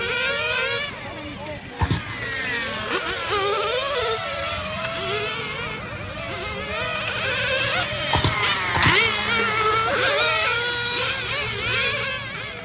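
Nitro RC cars race around a track, their small engines whining and revving in overlapping high-pitched buzzes that rise and fall as they pass, with a commentator talking over the noise.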